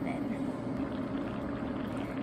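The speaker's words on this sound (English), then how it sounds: "We've got a nice bubbling, simmering going on our paella." Paella bubbling and simmering in a pan on a stovetop, a steady dense crackling and popping hiss that continues evenly throughout, close and moderately loud.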